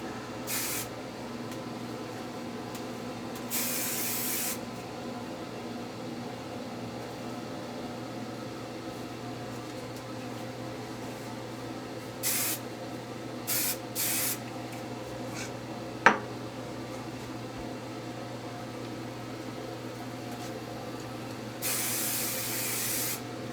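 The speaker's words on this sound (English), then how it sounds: "so I'm just going to do my final spray" Hairspray is sprayed onto freshly curled hair in short hissing bursts, several brief sprays with one longer spray near the end, heard over a steady low background hum with no talk.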